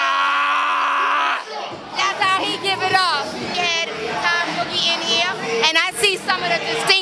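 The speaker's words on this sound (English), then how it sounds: "You see the crowd? Crowd is crazy." A packed birthday party crowd at the Stage 48 club gives a constant swell of shouting, cheering and overlapping chatter, with voices calling out nearby. A brief steady tone precedes it.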